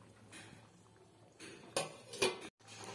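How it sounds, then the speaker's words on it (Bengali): A metal lid set onto a pot of simmering prawn curry, a few soft clinks and scrapes building to two louder clattering contacts, close by, followed by a brief cut and low background hum. "এবার 2 মিনিটের জন্য ঢাকা দিয়ে দেবো"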